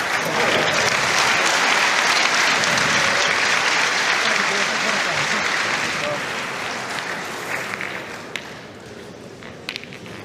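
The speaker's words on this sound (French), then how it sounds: "si vous entendez parfois les applaudissements pendant que les joueurs sont pas en train de jouer" Spectators at a petanque Team Trophy final between Morocco and Italy applaud in a sustained, dense burst of clapping that gradually thins and fades toward the end.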